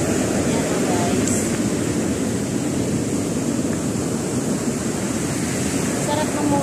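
Steady, loud surf at the sea in Salalah, Oman, a continuous wash of breaking waves with wind buffeting the microphone throughout, no distinct individual crashes standing out.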